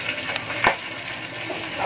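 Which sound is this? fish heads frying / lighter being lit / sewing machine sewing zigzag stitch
fish heads frying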